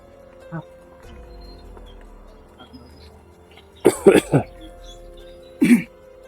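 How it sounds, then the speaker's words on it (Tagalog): A man coughs in a forest, first one short cough, then a harsh cluster of three or four coughs, and one more near the end, close against quiet background. "Inuubo na naman tayo."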